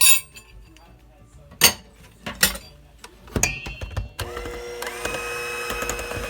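A spoon clinks against a bowl while a flour, baking soda and salt mixture is mixed into banana bread batter, giving scattered knocks and scrapes followed by a steadier rustling stir.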